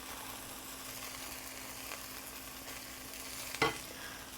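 A spoon scoops warmed marinara sauce from a pot against a soft background sizzle, ending in a single clear scrape and clink near the end.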